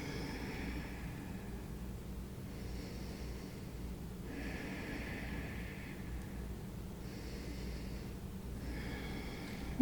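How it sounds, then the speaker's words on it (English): Slow, deep breaths during a shoulder and hip mobility vinyasa yoga practice outdoors, each long inhale and exhale rising and falling in a steady cycle over a constant low background rumble, close and fairly soft. "A few deep breaths here."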